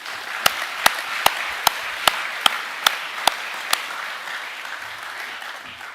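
Steady applause from a crowd at a school senior academic awards assembly, with a series of sharp, evenly spaced claps standing out near the front before fading.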